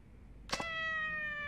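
Two cats in Yakuza 4 give a short meow, a sudden bright tonal cry that rings out and holds, rising from near silence.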